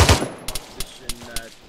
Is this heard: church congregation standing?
no